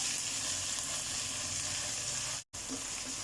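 Garlic and ginger paste fries in a pan for chicken karahi, giving a steady close sizzle with a soft stirring scrape and one brief dropout near the end.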